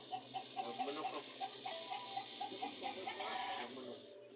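Chickens cluck in a rapid, repeated rhythm at moderate distance, with a low steady hum of background noise underneath.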